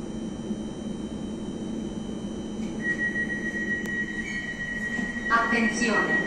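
Milan M4 underground train moving, a steady rumble with a rising wheel squeal, while a person talks quietly over it.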